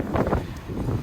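Wind gusts across an open ferry deck in Norway, buffeting the microphone in a brief burst of low, rumbling noise.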